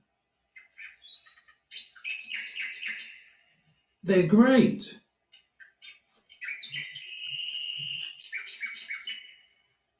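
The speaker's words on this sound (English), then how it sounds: "A mechanical nightingale. Oh, listen. It sings beautifully too." Birdsong from a mechanical nightingale, a gift from the Emperor of Japan, plays as bright chirping trills in two phrases, broken by a short loud burst in the middle, with a few spoken words between them.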